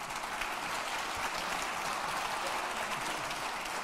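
Steady applause from an audience at a family business awards ceremony in Aragón, a dense even wash of many hands clapping that runs without a break for about four seconds, with no voice over it.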